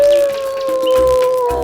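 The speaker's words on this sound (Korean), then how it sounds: "우리가 찾던 울음소리가 늑대에게서 나는 거였어" Wolves let out a long, loud, wavering howl that slides slowly downward, close and dominant, with faint yips and other canine cries beneath it, and no voices.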